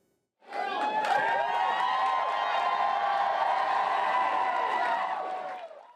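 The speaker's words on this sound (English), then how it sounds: "Raucous applause greeted first-time Stanley Cup champion Robert Bortuzzo as he made his way into the Da Vinci Center ballroom" Raucous crowd applause mixed with cheers and whoops in a ballroom as first-time Stanley Cup champion Robert Bortuzzo enters with the Cup; the din starts abruptly, holds loud and full for about five seconds, then fades.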